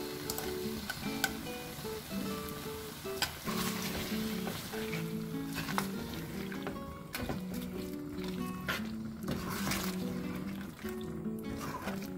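Chicken pieces sizzle and fry steadily in a pan for curry noodles, a continuous crackling hiss with bubbling liquid, with background music playing throughout.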